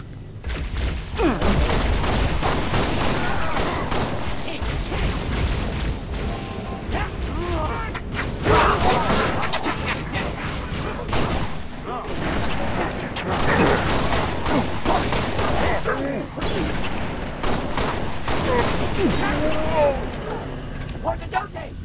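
Dense, continuous gunfire and explosions from a firefight on the ONI Sword Base map in Halo Reach, loud and sustained throughout. Players talk over the battle.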